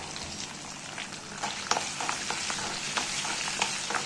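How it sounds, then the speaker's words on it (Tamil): Garlic, onion and curry leaves crackle in oil over low heat for a spicy tamarind curry, a steady soft sizzle with scattered pops and light stirring clicks, close by and without speech. "இது எண்ணெயில் கொஞ்சம் ஃப்ரை ஆகட்டும்"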